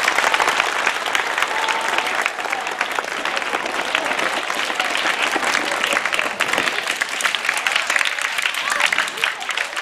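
An audience at a school event claps loudly and steadily, a dense, sustained round of applause from many hands that continues without break for around ten seconds.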